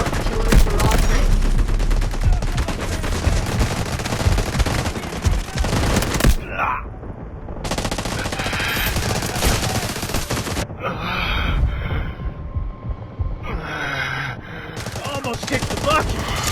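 Bizon submachine gun fire in the Delta Force Mobile game rattles in rapid sustained bursts, loud and close, broken by a few brief pauses, with game voices and battle noise mixed in.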